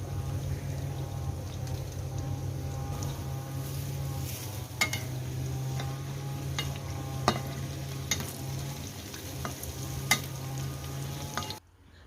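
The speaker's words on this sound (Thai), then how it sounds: "ทอดจนเห็ดมีลักษณะสีเหลืองแล้วก็กรอบแบบนี้นะคะ" Mushrooms coated in toasted rice and herbs frying in bubbling oil, a soft steady sizzle at low volume, with a few faint clinks and scrapes of a utensil scattered through before it cuts off abruptly.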